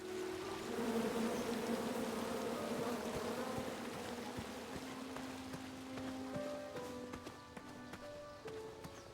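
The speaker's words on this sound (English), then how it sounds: "Come at me, bees!" A swarm of bees buzzes in the adventure game King's Quest, a droning, wavering hum that is loud at first and later mixes with tonal game sound effects.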